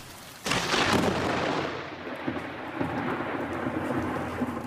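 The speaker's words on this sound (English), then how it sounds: "lightning, thunder," A sudden loud thunderclap breaks over a Sydney thunderstorm and rolls into a long rumble, with heavy rain hissing steadily underneath and no voices.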